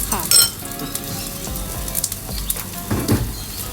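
Saba fish grills in a pan with soy-based seasoning, sizzling steadily up close while utensils clink and scrape against the pan in bursts; no one speaks.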